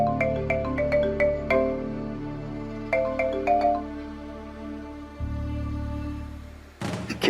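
A phone ringtone plays as a call is tried, repeating melodic electronic notes in short bursts with pauses between them, followed by a low hum and a brief clatter at the end.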